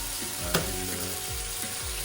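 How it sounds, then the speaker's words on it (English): A steady, soft sizzle of a paratha heating in a frying pan, with a faint low hum and a single brief clink partway through. "We first heat the paratha up"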